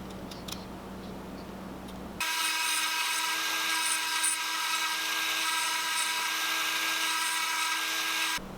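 A Dremel rotary tool cuts a lip slot into a wooden fishing lure, a high steady whine that starts abruptly after a quiet moment and holds for about six seconds, close up.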